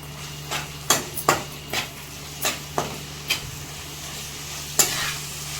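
Biryani masala and coriander stirred into a pan for prawn biryani, a run of about ten sharp spoon scrapes and clanks against the metal, irregularly spaced over a quiet low sizzle and a steady hum.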